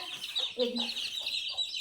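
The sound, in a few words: chickens clucking as they are let out of the coop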